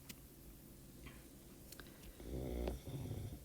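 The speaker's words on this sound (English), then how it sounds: "If you hear my dog snoring" A dog snoring softly indoors, faint rhythmic breaths with small ticks and clicks, one fuller snore swelling near the end.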